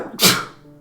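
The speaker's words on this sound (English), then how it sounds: "that was a very cute bunny sneeze" A pet rabbit gives a single tiny sneeze, a quick, sharp, hissy burst up close that fades within a fraction of a second.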